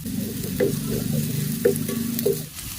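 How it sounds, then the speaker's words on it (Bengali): Thickly chopped onion frying in a pan for mashed potato bharta, a low, steady sizzle broken by several sharp spatula scrapes and knocks, close up and without speech. "তো পেঁয়াজটাকে আমি হালকা লাল করে ভেজে নেব, যাতে পেঁয়াজের কাঁচা গন্ধটা চলে যায়।"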